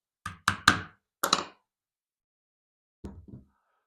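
A wooden hand plane's wedge is tapped to set the blade: three quick sharp knocks, a fourth after a brief pause, then silence and two softer taps, all close and alone.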